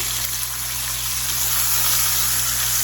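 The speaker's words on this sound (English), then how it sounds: "we're going to let that sear on this side as well for probably 4 to 5 minutes" Pork tenderloin searing in a hot skillet, a steady loud sizzle and crackle of frying that holds evenly throughout with no voices.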